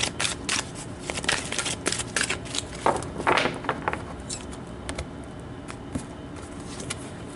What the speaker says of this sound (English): let's pull an overall advice outcome card